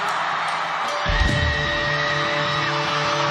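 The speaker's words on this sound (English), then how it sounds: "That's her screaming right" A woman screams in the crowd at a live concert at Madison Square Garden in 2022, loud shrieking and cheering rising over sustained music and arena crowd noise.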